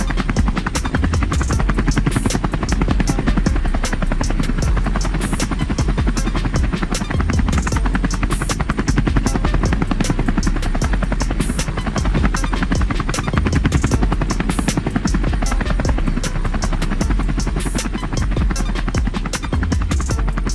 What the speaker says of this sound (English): Helicopter logging may look dramatic